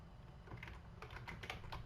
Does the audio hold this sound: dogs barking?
no